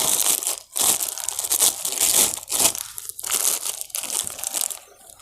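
A plastic bag crinkling and crunching as it is rolled tightly around a large taro bulb, continuous loud rustling with brief pauses, very close.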